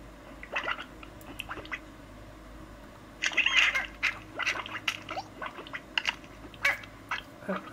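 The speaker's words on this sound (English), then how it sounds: "Chicken, chicken." Chickens in the Slime Rancher video game cluck and squawk in short bursts, a busy scatter of bright calls over a low steady background hum, busiest in the middle.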